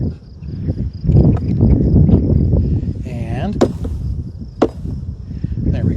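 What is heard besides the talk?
tapping bees off a beehive comb frame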